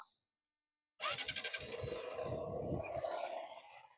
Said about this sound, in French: Attendez, je vais démarrer la bécane.